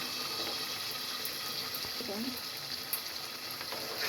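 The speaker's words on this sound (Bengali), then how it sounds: "এখন আমি সেখানে দিয়ে দিব ভেজে রাখা সেই বেগুনগুলো" Fried eggplant pieces go into a pot of cooking potatoes and tomatoes, giving a continuous hissing simmer and sizzle with a brief clatter of stirring near the middle.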